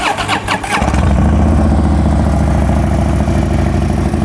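A Harley Davidson Dyna Wide Glide with a Vance and Hines exhaust starts up: a short crank and catch, then a loud, deep, steady idle rumble close by.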